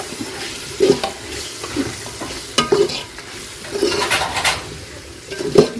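Tomatoes fry with softened onions in a pan for chicken biryani, a soft ongoing sizzle broken by repeated scraping stirs and knocks of a spoon, close by with no talk.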